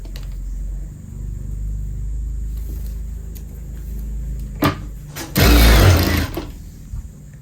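A sewing machine stitching the shoulder seam of a kurti hums at low level, then runs in a louder burst of stitching near the end.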